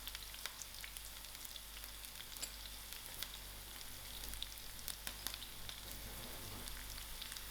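Dry chilies sizzling in hot oil with garlic and curry leaves for fried green beans, a steady crackling fry with scattered sharper pops, moderate and unbroken, no talking.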